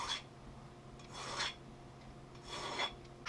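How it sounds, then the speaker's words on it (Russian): A hand-held metal file rasps along the outside of a connecting rod blank in a few slow, separate strokes, each a bright scraping burst with brief pauses between. "Снаружи обработаю напильником сейчас."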